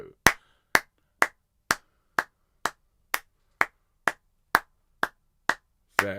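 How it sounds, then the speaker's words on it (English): A single person claps a rhythm exercise in a singing lesson: twelve crisp, close claps spaced evenly at a steady pulse, each sharp and dry with silence between. "Have a go at clapping it for me."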